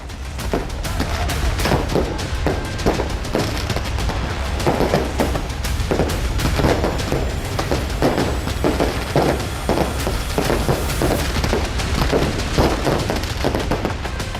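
Dense crackling bursts and booms of celebration fireworks in Afghanistan go off continuously, overlapping pops at a steady loud level with no pauses.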